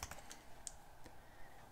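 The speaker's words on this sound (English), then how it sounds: "and typing in whatismyip" Faint computer keyboard typing, a handful of light scattered key clicks over a quiet room background, soft and close, no speech.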